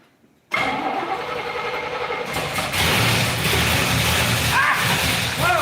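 A 1967 Camaro engine cranks for a couple of seconds after a near-silent start, then catches and runs loudly and roughly, revving slightly near the end, close up.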